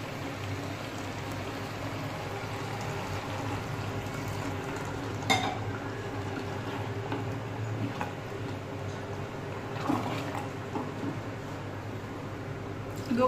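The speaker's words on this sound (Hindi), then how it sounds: "अब मैं इसमें 2 ग्लास पानी डालूंगी।" Two glasses of water poured into jackfruit curry frying in oil with onions, giving a steady loud sizzle and hiss that runs throughout, with a few faint clinks.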